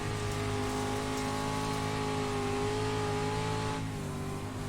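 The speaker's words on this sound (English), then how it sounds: "And here you're on board here with the throttle." Dirt race car engine on throttle, heard onboard at Eldora Speedway, a loud steady high-revving drone with a slight pitch dip near the end, with no talk.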